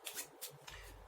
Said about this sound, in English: So I'm going to give this pile a little shuffle.